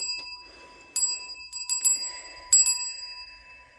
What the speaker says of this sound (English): I felt guided to show you guys the bell and to ring it